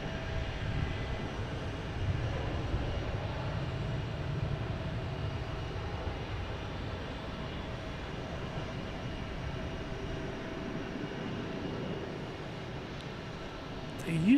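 A large airliner departs, its engines a broad, steady jet roar that holds level throughout at moderate distance, loudest low down and slowly shifting tone, with a brief sharper noise right at the end.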